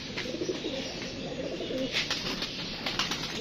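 Soft low pigeon cooing close by at a cage, mixed with light rustling and faint background noise.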